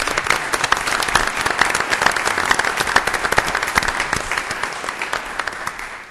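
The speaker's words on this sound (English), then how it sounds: "I think that deserves a round of applause." An audience at an Orlando City Council meeting breaks into loud, sustained applause, a dense patter of many hands clapping that fades out at the end.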